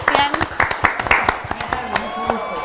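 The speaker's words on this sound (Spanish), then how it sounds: "un aplauso para Cristian" An audience claps for an arriving guest on a Spanish-language talk show, a loose patter of hands mixed with a host's voice speaking over it.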